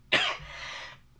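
A single sharp cough, close and fairly loud, with a short breathy tail.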